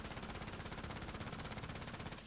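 Rapid automatic gunfire in the video game Call of Duty Warzone, a fast, even stream of shots running continuously and fairly faint for a couple of seconds before tailing off slightly.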